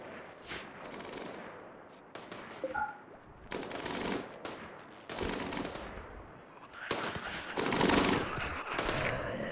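A minigun fires in RimWorld, ragged bursts of rapid gunfire rising and falling in loudness across the stretch, fairly quiet overall.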